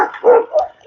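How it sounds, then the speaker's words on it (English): Several dogs give short barks and yips in a quick run, fairly close and loud, with a brief gap between outbursts and no talking. "they got half a dozen dogs in there."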